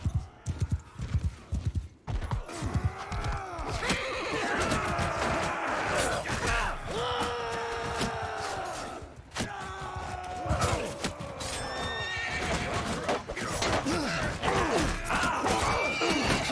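Horses gallop across a battlefield in Mount & Blade II: Bannerlord, with rapid, close clip-clop hoofbeats running throughout and several loud neighs and whinnies breaking over them.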